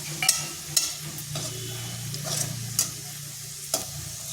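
Onions fry until reddish in a pan with a soft, low sizzle, while a spoon knocks and scrapes the pan now and then. A few sharp clicks stand out, close and fairly quiet, with no talk.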